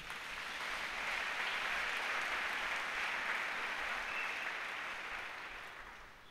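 A church congregation applauding during a sermon, a broad sustained wash of clapping that swells over the first second, holds steady, then fades slightly toward the end.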